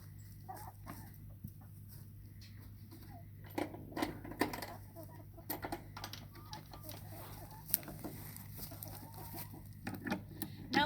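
Chickens clucking softly in a backyard garden coop, scattered short calls over a steady low hum, with faint scratching and pecking noises in between.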